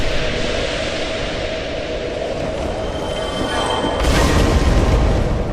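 A fireball blast in Dark Souls, a steady broad roaring rumble that swells louder and brighter near the end, with no voices over it.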